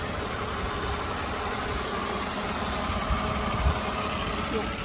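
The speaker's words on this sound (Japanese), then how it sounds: "このような安定したアイドリングでございます" A Mercedes-Benz W124 E280 engine idling steadily, a constant close mid-pitched hum with slight vibration and no change in revs, nothing else heard over it.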